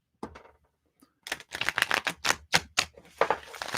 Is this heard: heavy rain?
no